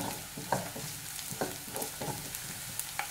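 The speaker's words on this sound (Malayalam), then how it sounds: "ഇപ്പം ഈ ചെറിയുള്ളിയും കറിവേപ്പിലയും ചെറുതായിട്ടൊന്ന് ഫ്രൈ ആയി തുടങ്ങിയിട്ടുണ്ട്" Shallots and curry leaves fry in a pan for a lady's finger stir fry, a steady low sizzle broken by soft stirring scrapes every second or so, no voices.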